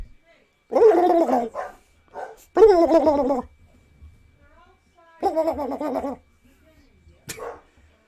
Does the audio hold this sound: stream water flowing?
no